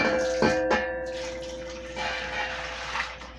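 A quart of water pours into a bowl of yeast and sugar for homemade bread, a splashing, gurgling rush with a couple of sharper splashes early, then a softer, steady trickle.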